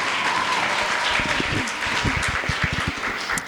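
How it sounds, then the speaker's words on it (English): An audience at a community campaign gathering applauds for a woman being introduced: a steady, dense wash of clapping with a few sharper, closer claps standing out toward the end. "Please give her a round of applause."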